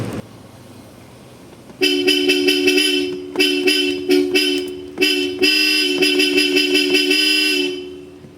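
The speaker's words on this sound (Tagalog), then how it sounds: "Ang ating original Bosch Europa. Dual loud horn yan mga boss." Loud, blaring Bosch Europa dual car horn sounding in a series of short and long honks, close and harsh, following a few seconds of quiet background.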